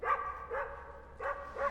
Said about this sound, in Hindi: सर आपने कोई नया कुत्ता पाला है? Is it a Pomeranian? Bulldog है।